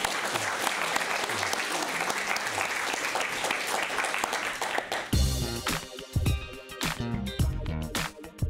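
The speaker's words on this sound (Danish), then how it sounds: "klappe en gang til for hendes fantastiske indsats" An audience in a Roskilde lecture hall applauds a speaker, steady clapping sustained throughout and turning louder, more distinct and closer near the end.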